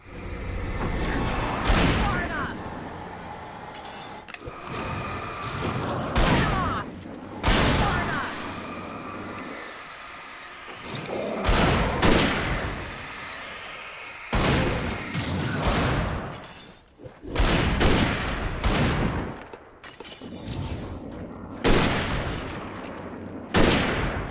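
Repeated loud gunshots ring out in the video game Alan Wake, with sharp blasts and heavy booms that come in bursts across the scene, some close together and some with short pauses between them.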